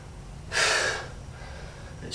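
One sharp, heavy breath during a beginner home bootcamp workout, a single loud gasping exhale near the middle, close up, with faint room noise around it.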